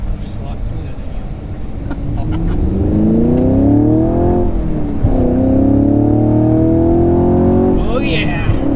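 A new Chevy Camaro's engine climbs loudly through the revs while driving, with pitch sweeping upward, a shift around the midpoint, then another pull. Voices are faintly heard at the start.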